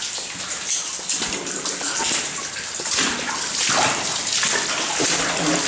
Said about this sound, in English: A lot of water still coming out of here for middle of July.